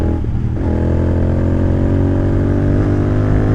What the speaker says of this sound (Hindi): एग्जॉस्ट काफ़ी लाउड एंड ग्रंटी है